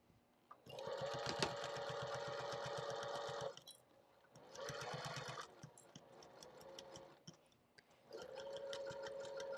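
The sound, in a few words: sewing machine stitching a zipper pouch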